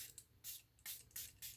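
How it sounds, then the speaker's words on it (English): Water from a spray bottle misted onto a mixed media page in an altered book, heard as four short hissing bursts with brief pauses between them, close and fairly quiet. "spray it."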